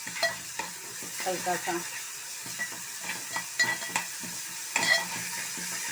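Ginger-garlic masala frying in a pan, with a steady sizzle broken by repeated scraping stir strokes, close and moderately loud; a voice briefly speaks.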